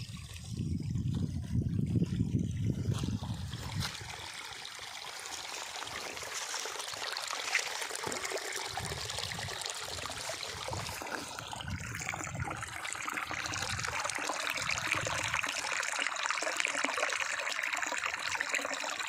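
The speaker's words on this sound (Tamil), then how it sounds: "தண்ணி ஓடுற சவுண்டு அந்த மெடிடேஷன் மியூசிக் மாதிரி தான் இருக்குது" Flowing water trickles along in a stream, a continuous close rushing babble with a deeper rumble at first, then a steady bright wash with no voices.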